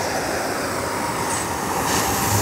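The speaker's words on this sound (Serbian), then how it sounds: "nek snima podbijačicu" A railway track tamping machine works on a main rail line in Donji Titel, giving a loud, dense, continuous mechanical roar and rumble close by, with no pauses.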